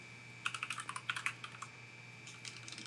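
Quick bursts of keystrokes on a computer keyboard, a run of about a dozen clacks followed by a few softer, scattered taps, close and clear over a steady low hum with no talking.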